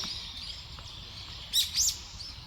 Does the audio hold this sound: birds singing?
yes